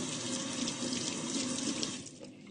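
Steady rush of tap water pouring over an eggplant being rinsed in a sink, close and continuous, easing slightly softer near the end with no talking.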